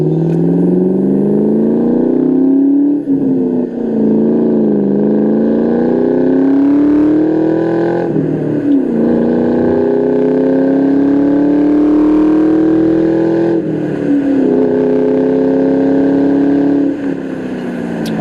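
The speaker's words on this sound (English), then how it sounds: "Do a little pull. Let you hear the Borla exhaust." A 2003 Ford Mustang Mach 1 with a Borla exhaust pulls hard through the gears. Loud, close engine note climbs steadily in pitch, dips briefly at each of two shifts, then climbs again over about eighteen seconds.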